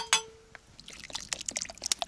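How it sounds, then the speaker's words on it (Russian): After a sharp clink, water is poured into a pot of kharcho soup with rice, cooked outdoors by a Siberian forest log cabin, giving a short burst of close splashing and trickling. "Еще немного воды добавим."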